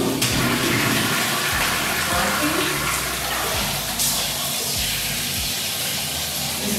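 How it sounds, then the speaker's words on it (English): Water runs from a tap in a shared bathroom, a continuous rushing hiss that holds steady with a few faint clunks underneath and no one talking. "Water is running"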